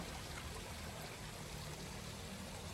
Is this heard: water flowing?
yes